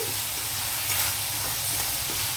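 Raw prawns and onions fry in a hot pan, giving a dense, steady sizzle and hiss with faint stirring scrapes, continuous and close throughout.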